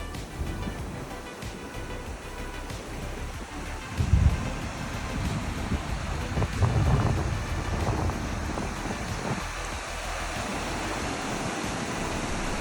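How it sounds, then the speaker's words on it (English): Wind rushes steadily past the deck of a cruise ship at sea, with ocean waves surging and washing below in a broad, continuous roar. "Hello, ocean!"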